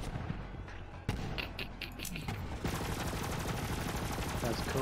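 Gunfire in the shooter game Borderlands 3, a dense run of shots and bursts layered with game effects, growing busier and louder toward the end as players talk over it.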